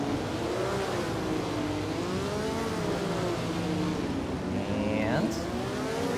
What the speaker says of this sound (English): You can hear that 12-cylinder.